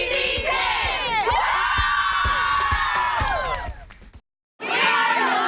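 Burbank Titans high school cheer team shouting and cheering loudly in unison with crowd noise, sustained for several seconds before a brief silent break and a sudden return of loud cheering.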